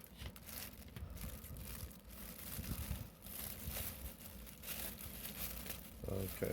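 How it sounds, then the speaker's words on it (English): Plastic crinkles and tears as scissors cut the excess off a homemade wind sock, close rustling and crackling throughout with faint speech mixed in. "Cut that plastic off."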